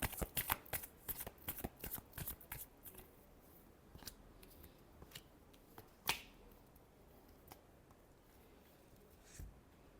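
Tarot cards shuffled in a quick burst of crisp riffling snaps, busiest over the first three seconds, then easing into scattered isolated flicks and taps that fade toward the end, with no talking.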